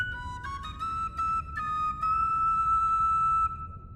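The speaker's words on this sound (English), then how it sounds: "then the Wildland Whistle. That's the tune!" The Wildland Whistle tune from the video game The Bard's Tale IV: a short, clear whistled melody of a few rising notes ending on a long held tone, over a low background rumble.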